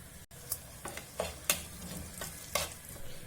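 Whole spices, cumin seeds, cloves, cinnamon and cardamom, fry quietly in hot oil in a kitchen, a soft sizzle broken by several sharp clinks and scrapes of a stirring utensil against the pan.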